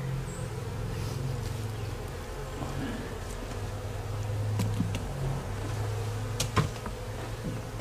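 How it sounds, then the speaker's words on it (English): Red wasps buzzing close by during a November hive removal, a steady low insect drone running throughout with a few sharp knocks near the end. "There's more of them red wasps."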